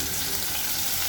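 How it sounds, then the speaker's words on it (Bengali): Dried lotia fish sizzles in a hot pan with onion and chili as it is fried, a steady close crackle with no one speaking. "এখন আমি লটকে শুটকে ভুনা করব।"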